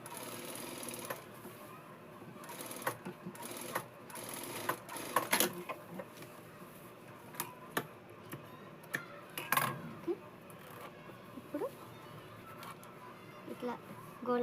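Sewing machine stitching a Punjabi dress, running in steady mechanical bursts with sharp clicks and thumps between runs, close and moderately loud, with someone talking over parts of it.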